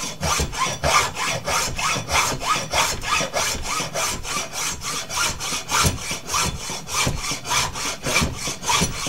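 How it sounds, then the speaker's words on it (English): A hacksaw cuts through bone held against a support while a fish hook is carved, giving a close, steady back-and-forth rasp with about twenty-five even strokes and no talk. "So we just cut it, holding it against here with the hacksaw."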